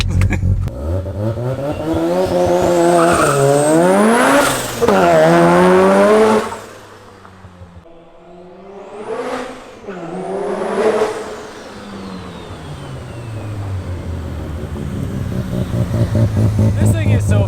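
A four-rotor Toyota Supra driving hard, its rotary engine screaming up through the revs, dropping off between shifts and surging again, loud and close, with a brief squeal of tires.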